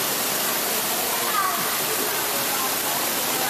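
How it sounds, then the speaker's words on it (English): Water from aquarium waterfalls pours steadily, a broad constant splashing wash that fills the space evenly from start to end without any break. "Waterfalls everywhere."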